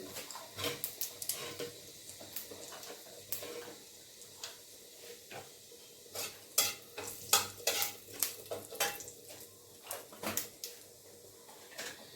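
Whole cumin seeds sizzling in hot oil for a rohu fish curry with bitter gourd, eggplant and potato, a faint crackle broken by repeated scraping stirs and light utensil clicks.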